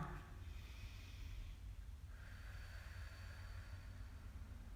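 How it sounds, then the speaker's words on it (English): Deep yoga breathing, drawn in through the nose and let out through the mouth, comes as a couple of slow, quiet, airy breaths, close and alone. "you're breathing in through your nose, out through your mouth"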